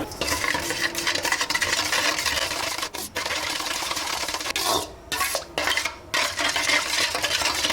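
A spoon works soybean oil, whole eggs and sugar together in a bowl for butter bun dough, making continuous close scraping and stirring with a few brief pauses.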